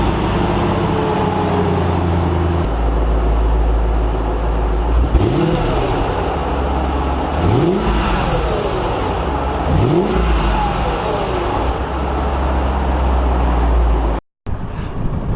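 A supercharged 5.4-liter M113K V8 in a Mercedes CL55 cold-starts with a loud rising crank and catch, then settles into a steady, rumbling high idle with a few throttle blips, recorded up close in a windy hotel parking garage.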